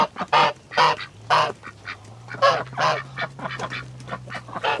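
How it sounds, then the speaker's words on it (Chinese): Domestic geese honk loudly and repeatedly at close range, a farmyard flock calling in irregular bursts, with no talk over them. "这大鹅又开始召唤我了"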